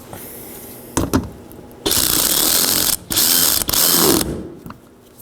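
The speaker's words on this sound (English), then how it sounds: "reinstall my 10mm bolt" A ratchet snugs a 10mm bolt at the lower bumper corner of a 2014–2019 Nissan Sentra while fitting the rear impact absorber, giving brief clicks then two long, loud, steady bursts of ratcheting close up.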